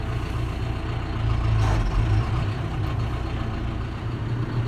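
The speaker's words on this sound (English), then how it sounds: "We're going to turn on the PTO." Farm tractor running with its 540 PTO engaged, driving an auger and hammer mill that grind distillers grains into cattle feed; a steady, loud low mechanical drone holds throughout with no talk.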